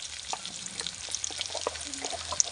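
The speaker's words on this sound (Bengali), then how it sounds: "এই ক্যাপসিকামটাও ভালো করে ভেজে নেবো এর সঙ্গে" Capsicum and chicken for chilli chicken frying in a pan, a soft crackling sizzle with light stirring scrapes and small taps, near and fairly quiet, no speech.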